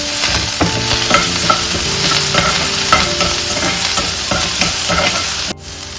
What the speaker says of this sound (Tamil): சூடானதுமே கொஞ்சமாக எண்ணெய் விட்டு கொஞ்சமாக கடுகு பொரிஞ்சதுமே கொஞ்சமாக கட் பண்ணி வச்சுருக்கிற வெங்காயம், க்ரீன் சில்லி